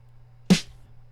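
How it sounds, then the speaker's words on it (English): A single snare drum sample hit, one sharp broadband crack with a short decaying tail over a faint steady low hum, heard alone. "The other snare just sounds like this,"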